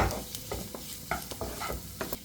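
Onion, ginger, garlic and green chilli sauté in a pan with a soft sizzle, punctuated by repeated close scraping strokes of a spatula stirring the mix.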